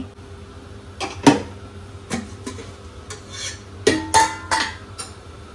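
A lid is lifted off a pot of kocchige rice, with a few sharp metal clanks and scrapes spread over several seconds over a low background hum, close and without talk.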